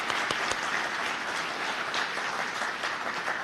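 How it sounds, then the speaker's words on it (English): A city address audience gives a round of applause for the local community colleges, dense steady clapping filling the room for a few seconds. "Let's give our Foothill De Anza colleges a big round of applause."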